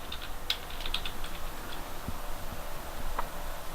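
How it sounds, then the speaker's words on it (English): Fingers type on a computer keyboard, a quick close run of light key clicks with a few sharper taps and short pauses. "So in there, I would type Harry Nuts"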